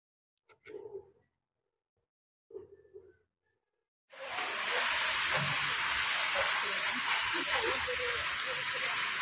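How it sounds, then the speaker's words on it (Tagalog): Heavy rain pours down steadily on a farm, a dense roar that starts abruptly after a few seconds of quiet broken by brief talking, then continues loud and unbroken to the end. "Bumuhos po yung ulan."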